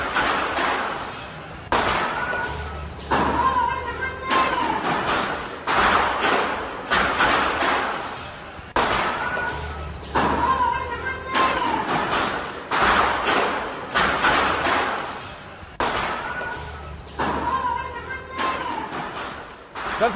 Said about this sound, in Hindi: सुनिए किस तरह से धमाके हो रहे हैं